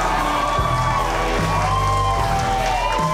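A studio audience on a Mexican late-night talk show cheers, whoops and applauds loudly for the band, a dense steady roar of crowd noise under a bright musical tone.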